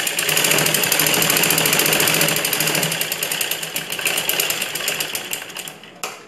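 A sewing machine stitches a dart on a ladies' blouse in a fast, even run of needle strokes that slows and stops near the end. It is loud and close, with no voices.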